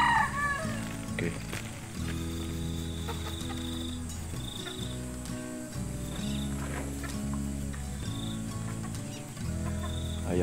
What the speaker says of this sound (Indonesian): Ayam pun bisa bermain-main kejaran.